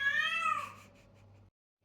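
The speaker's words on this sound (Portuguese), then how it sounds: "Ela começou a miar." A cat gives one clear, drawn-out meow that rises and then falls, close and fairly loud, ending in a brief silence.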